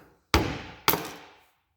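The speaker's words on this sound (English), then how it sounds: "I just gave it a few taps with the hammer" A hammer strikes a shotgun shell twice to knock out its primer, two sharp close knocks with a brief ringing decay after each.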